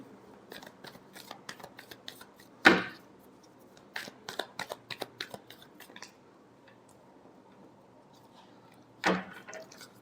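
Tarot cards being shuffled by hand in a quiet room, a run of soft riffling flicks and snaps with two sharper bursts where the deck is bridged or squared.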